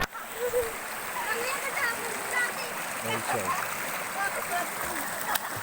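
River water rushes and splashes steadily in a continuous broadband wash, with a brief voice speaking over the flow.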